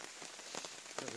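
Heavy rain drums steadily on a tarp during a torrential storm while wild camping in North Wales, a dense close hiss of impacts with a few louder spatters near the end.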